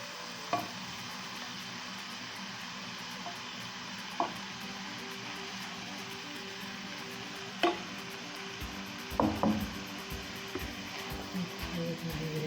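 Ground beef sizzles in a pan for beef nachos, a steady close frying hiss with a few sharp clicks and scrapes of a utensil. The cooking noise continues throughout without speech.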